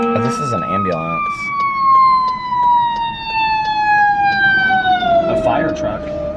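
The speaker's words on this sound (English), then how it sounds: "A fire truck. Looked like an ambulance." A loud fire truck siren slowly descends in pitch across the whole stretch, steady and prominent, with some traffic noise mixed in underneath in an urban neighborhood.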